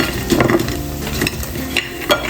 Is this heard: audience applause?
no